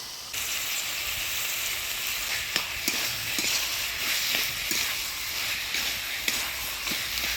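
Squash ghonto being stirred with a little sugar in a pan over the heat, with a constant sizzling hiss and a few sharp scraping knocks of the spoon at irregular intervals.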